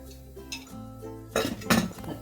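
A lid goes onto a pot of boiling sprouted moth beans being cooked for Kolhapuri misal, with a couple of metallic clinks and a rattle as it settles, close and fairly loud.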